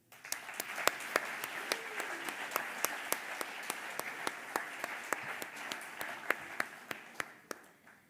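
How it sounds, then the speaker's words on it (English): Congress audience in a hall giving steady applause, a moderately loud, even wash of many hands clapping, with a few sharper nearby claps standing out throughout. "So please give them an applause."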